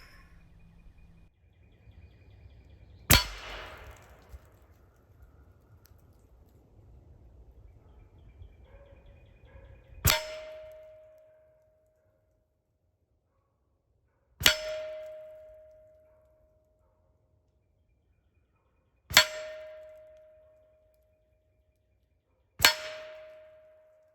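Suppressed 300 Blackout rounds from a short-barrelled rifle with a DeadAir Sandman suppressor strike steel targets, giving five sharp metallic clangs spaced a few seconds apart, each ringing briefly. The impacts are distant and there is no talk.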